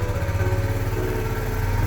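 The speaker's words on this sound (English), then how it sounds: "when we actually turn over the bike and get it to run" A Kawasaki Z125 motorcycle engine runs close by with a steady, rapid low putter, holding an even idle throughout the short stretch.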